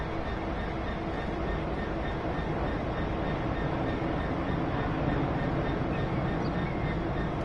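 A Class 66 diesel locomotive in the Train Sim 2020 game, East Coastway route, drones steadily with a dense, loud rumble and rail noise throughout, without pause.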